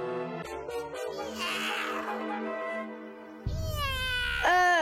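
Cartoon kitten meowing, a series of high, drawn-out cries and wails rising and falling in pitch, close and clear, with no talking over it.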